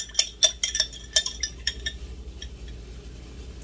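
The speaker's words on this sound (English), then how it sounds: "So I'm gonna stir it back up." A spoon clinks rapidly against the sides of a cup while stirring miso broth drink mix, a quick run of bright metallic taps that slows and fades toward the end.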